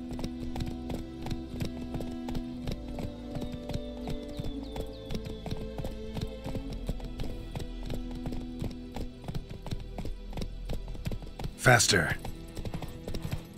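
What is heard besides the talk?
horse hooves galloping in the video game Witcher 3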